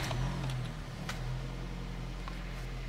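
Nissan X-Trail T31 engine running steadily after starting up, a continuous low rumble close by with faint higher clicks at the start, no voices.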